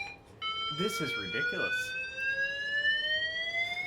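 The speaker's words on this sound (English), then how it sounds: "Well, I guess our fire alarm is different." A hotel fire alarm sounds with a steady, high electronic tone that holds throughout, while a person talks briefly over it near the start.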